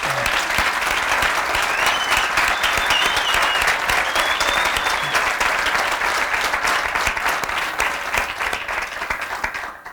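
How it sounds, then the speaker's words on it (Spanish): Audience at a round-table event applauding an Olympic medal-winning athlete, a loud dense wall of clapping sustained for ten seconds and easing slightly at the end. "Yo creo que hay que recibirlo con un fuerte aplauso también."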